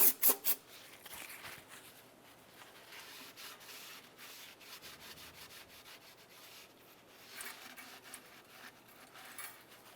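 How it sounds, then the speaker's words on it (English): Cloth wiping and rubbing a Honda Element engine's oil pan mating surface with brake cleaner after old RTV and gasket removal, a steady soft scrubbing texture with a few sharper strokes at the start, fairly faint and close. "give it a quick wipe down with some brake clean"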